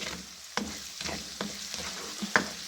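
Garlic and onion sizzle quietly in hot oil while a utensil stirs and scrapes the pan at intervals, close by with no voices.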